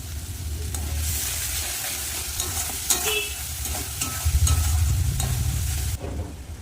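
A spice paste with cumin powder and chilli powder sautéing in a pan for a dal with katla fish head. A steady close sizzle runs throughout, broken by scraping stirs, with a low rumble near the end.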